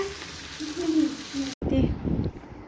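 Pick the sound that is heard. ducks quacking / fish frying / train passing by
fish frying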